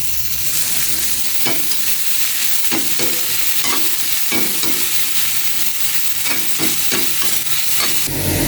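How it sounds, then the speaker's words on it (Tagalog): Vegetables sautéed in a pan: steady close sizzling and frying hiss with repeated stirring scrapes and clicks of a utensil throughout, no talking. "Gisa-gisa pong maigi."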